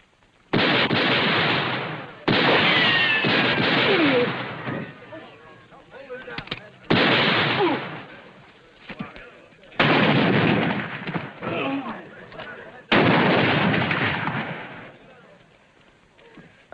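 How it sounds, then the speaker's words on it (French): Gunshots fired in a western series episode of Bonanza, five loud sharp blasts spaced a couple of seconds apart, each with a lingering echoing tail, with voices between them. "Assez tiré comme ça pour ce soir."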